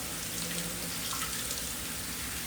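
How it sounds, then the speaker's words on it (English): Water pours from a tap through a bowl of leca clay pebbles, a steady close hiss and splash with slight fluctuations, no voices. "I'm just going to run the water through"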